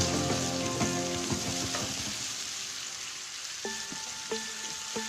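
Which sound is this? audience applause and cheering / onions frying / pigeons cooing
onions frying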